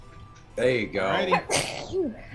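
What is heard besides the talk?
sneeze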